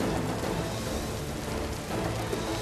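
Steady rain driven by wind during a monsoon downpour in Gujarat, heard as an even, dense wash of noise with no voices.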